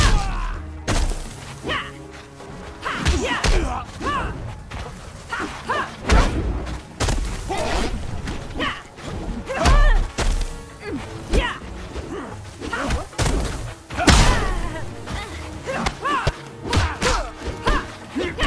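Mortal Kombat fighting game combat between Sonya Blade, Nightwolf and Stryker: rapid, irregular punches, kicks and heavy thuds land in quick bursts with whooshes and grunts over a busy game soundtrack.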